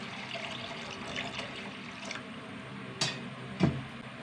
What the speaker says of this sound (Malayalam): ചൂട് വെള്ളം ഒഴിച്ച് കൊടുക്കട്ടെ